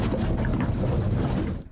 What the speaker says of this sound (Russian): После экстренного вызова катер отправляется дальше.